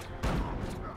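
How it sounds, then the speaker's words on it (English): Gunfire in Batman Arkham Knight: a short, muffled burst of shots at moderate distance lasting under a second, mixed into dense game noise. "stop shooting me"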